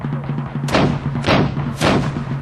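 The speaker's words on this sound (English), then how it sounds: "a bombardment began." Cannons bombarding the walls of Drogheda: three heavy booming blasts about half a second apart, each a broad crashing roar over a steady low drone.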